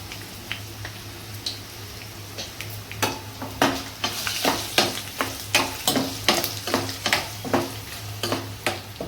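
Cashews and turmeric fry in a pan with a steady crackling sizzle, punctuated by repeated sharp spatters and stirring scrapes that grow busier midway, close and fairly loud with no talk.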